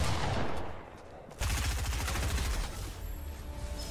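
Rapid automatic gunfire from a shooter video game blasts loudly in dense bursts, with a brief drop in the middle before the firing resumes and continues to the end.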